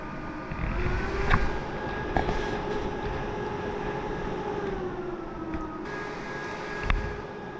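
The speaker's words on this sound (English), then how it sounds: "The fan noises you heard there," The cooling fan of an EcoFlow Delta Pro portable power station fast-charging whirs steadily up close, a continuous airy hum with a faint tonal whine and a few light clicks.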